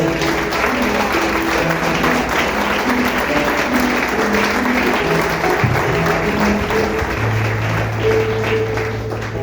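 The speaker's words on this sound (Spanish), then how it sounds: "¿Cuánto le brindan un fuerte aplauso al Señor?" A church congregation claps loudly and continuously during a Christian service, a thick wash of applause over sustained musical tones underneath.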